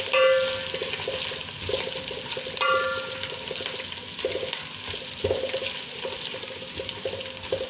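Ginger garlic paste sizzling in a pan, a steady crackle with repeated scraping and stirring strokes against the metal at an even rhythm, close and moderately loud, with no talk.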